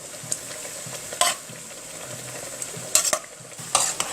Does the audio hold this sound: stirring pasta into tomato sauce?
yes